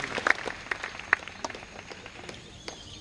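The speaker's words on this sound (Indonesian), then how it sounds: "Tepuk tangan untuk santri." Scattered, fairly faint clapping from an audience at a Santri Day gathering at an Islamic university, with sharp individual claps standing out over a soft background and fading toward the end.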